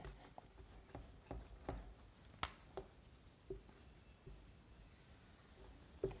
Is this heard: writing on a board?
yes